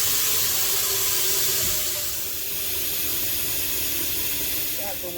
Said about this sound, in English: fill this large pot with some water